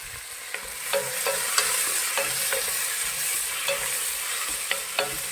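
Onions frying in a pan for prawn biryani with whole spices, a steady close sizzle broken by sharp scraping clicks from a spoon stirring at irregular intervals, no voices.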